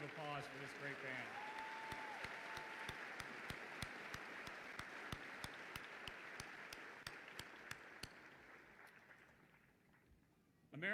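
An audience at an army graduation ceremony applauds the Fort Jackson band, a long sustained sheet of clapping with regular sharp accents, slowly tapering off before a louder burst at the very end.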